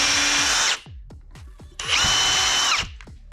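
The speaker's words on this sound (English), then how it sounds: "Drill both of my holes" A power drill bores screw holes while an interior door is hung. Two loud, close high-pitched whirring bursts are separated by a quieter stretch of knocks and clicks, with no talk.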